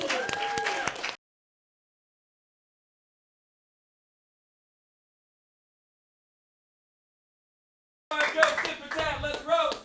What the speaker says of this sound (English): Everyone, clap it up for these two.